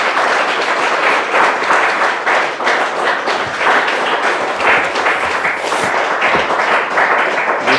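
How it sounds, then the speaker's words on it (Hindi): A church congregation claps together in thanks, a loud, dense and steady round of applause that fills the room throughout with no talk over it. "आइए एक बार हम धन्यवाद की ताली बजाएंगे सब भाई के लिए"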